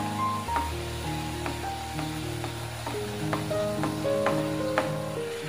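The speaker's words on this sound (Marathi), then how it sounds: "आता ह्यामध्ये आपण पुऱ्या तळायला सुरुवात करूया." Pooris frying in hot ghee give a soft, steady bubbling sizzle close by, with faint occasional clicks and a low background hum, and no one talking.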